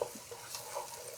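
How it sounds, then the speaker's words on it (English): Meat sautéing in a pan for Persian gheimeh polo, a soft, steady sizzle with light stirring scrapes, fairly quiet and close, with no voices. "you can add the meat to it and saute the"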